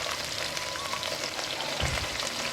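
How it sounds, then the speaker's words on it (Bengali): Thinly sliced potatoes fry in oil, giving a steady, close crackling sizzle throughout with a brief low thump near the end; no one talks. "প্রথমে আলুগুলো দিয়ে ভালো করে ভেজে নেব তেলের সাথে।"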